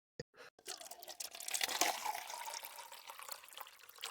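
A drink pours steadily into a glass, a continuous liquid splash with faint dripping, fairly close and alone with no talk.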